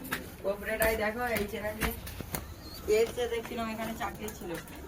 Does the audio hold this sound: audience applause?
no